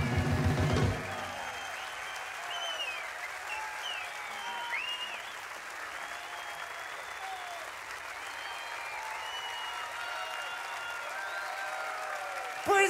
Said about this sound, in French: Vous pouvez les applaudir, c'est quelque chose de proche de la bravoure.